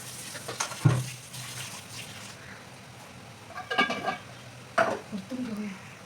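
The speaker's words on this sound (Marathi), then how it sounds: "कढीपत्ता पण टाकते परतून घेते" Curry leaves and spices are tossed in a hot pan, with a few short sharp sizzles and stirring scrapes standing out over quiet background hiss.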